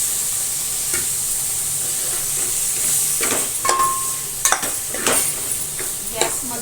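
Brinjal and potato pieces hit a hot pan and sizzle steadily, with bursts of louder crackling and a few stirring scrapes toward the end.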